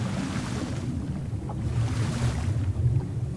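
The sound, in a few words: shore waves in video game ARK Aberration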